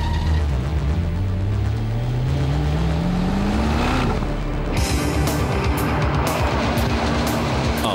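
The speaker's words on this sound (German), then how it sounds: "Fährst du nochmal Runway einmal runter, 250 Vollspeed" An Apollo Biturbo V8 supercar with 650 hp runs flat out down a runway, its engine note rising steadily through the gears in a loud, close roar, followed by rushing wind and road noise.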